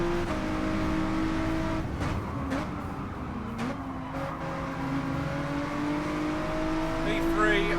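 Race car engine in the Gran Turismo 7 video game, a fairly faint steady high whine held at speed through a gear change, with short sharp transient bursts scattered across the run.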